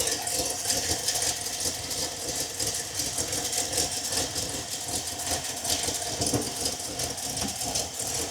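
A 1961 Buick LeSabre engine idles after a radiator upgrade, a steady, even running drone with a faint rhythmic knock, close and continuous with no talk.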